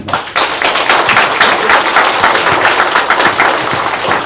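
Loud, dense applause from an audience welcoming guests introduced as former Paju mayoral preliminary candidates at a press conference, steady and sustained with no speech over it.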